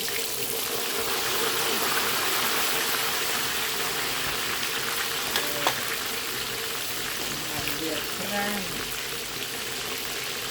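Steady sizzling and crackling of fish frying in hot oil in a small pan, close up, with occasional small pops of spattering oil and a soft voice underneath.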